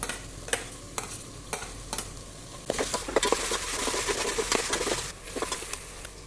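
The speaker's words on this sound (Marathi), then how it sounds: "त्याच्यामध्ये आता आपल्याला शिमला मिरची घालून घ्यायची तर शिमला मिरची सुद्धा आपल्याला चांगली भाजून घ्यायची" Onion and capsicum fry and sizzle in a pan for pav bhaji, with a steady crackle broken by repeated scraping stirs of a spatula, busier in the middle stretch, and no talk.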